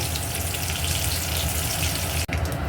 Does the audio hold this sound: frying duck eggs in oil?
yes